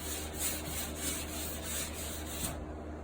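Sandpaper rubs along the edges of an antique cabinet to distress it, giving a close, rhythmic back-and-forth scratching in repeated strokes that stop just before the end, with no talking.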